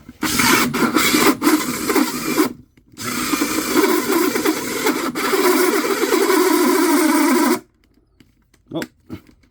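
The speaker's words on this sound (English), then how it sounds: "3-inch hole saw." A subcompact cordless drill with a 1/2-inch chuck bores a 3-inch hole saw through wood, a loud grinding, rasping cut running about seven seconds with a brief stall early on, then stopping to near silence with a couple of faint knocks.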